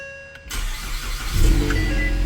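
A 2019 Ford Mustang's 2.3L EcoBoost engine, just re-timed with the high-pressure fuel line removed, cranks briefly and fires up into a low, rumbling idle that swells as it catches.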